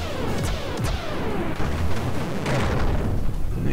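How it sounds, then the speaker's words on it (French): A dense, rumbling explosion in the video game Xenogears roars continuously and loudly, layered with crackling bursts and booming impacts throughout. "Une explosion nucléaire dans le milieu de la place."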